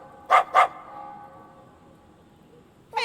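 Two quick, sharp barks from a small dog in the Sega Dreamcast action game Sword of the Berserk: Guts' Rage, close and clear, followed by quiet ambience and a short tonal sound at the end.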